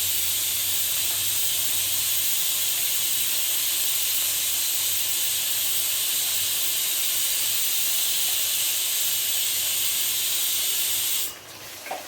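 Ginger garlic paste sizzles hard in a pan while beef biryani is being cooked, a loud, steady hiss close up that runs on without a break and stops abruptly near the end.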